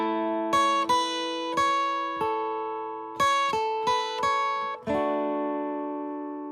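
Acoustic guitar strumming the opening two bars of a song, bright open chords with a syncopated, anticipated rhythm, close and clear, ringing notes between crisp strums, no talking.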